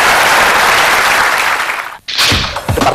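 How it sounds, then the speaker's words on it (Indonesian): Audience applause breaks out during an Indonesian evening talk show tribute to Gus Dur, a dense wash of clapping that sustains loudly, drops out briefly near the end, then resumes with sharper individual claps. "Kita kasih tepuk tangan untuk Inayah."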